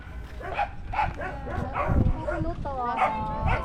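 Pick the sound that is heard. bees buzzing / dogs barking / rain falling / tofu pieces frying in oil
dogs barking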